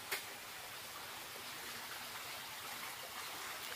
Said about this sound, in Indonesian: Ada pancuran nih, airnya gede banget nih.